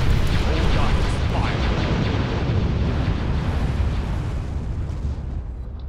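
In Star Wars: Ascendancy, heavy cruisers fire their guns in a dense barrage of booming blasts and rumbling explosions. The noise stays loud and continuous and fades slightly toward the end, and speech may be mixed in.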